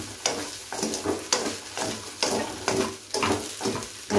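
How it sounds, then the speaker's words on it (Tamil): Leftover idli being stirred and tossed with chili powder and spices in a pan, giving a rhythmic series of scraping strokes over a soft sizzle, close and fairly loud, with no talk. "இதெல்லாம் எல்லாம் இட்லியோட நல்லா கலந்து வர மாதிரி கலந்து எடுத்துக்கோங்க"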